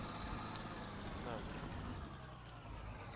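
Low, steady rumble of a Bizon combine harvester engine driving across a field, droning continuously close by with a voice faintly over it.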